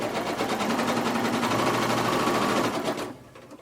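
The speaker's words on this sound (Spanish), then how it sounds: "voy a continuar para terminar esta segunda costura y plisar la tela" A sewing machine runs a fast, steady stitching rattle up close while sewing a seam to pleat fabric for a crochet dress, then stops abruptly near the end.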